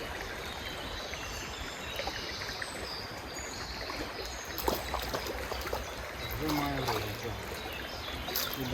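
River water flows and trickles steadily in a continuous outdoor wash while fishing, with faint scattered splashes and a murmuring voice in the background.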